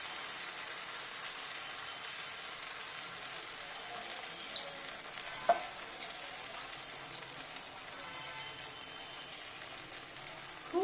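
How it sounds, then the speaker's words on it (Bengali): Green moong dal patties frying in a little oil give a faint, steady, crackly sizzle, quiet and even throughout, with a couple of tiny pops. "আর কমিয়ে কমিয়ে অনেকক্ষণ ধরে ভাজতে হবে"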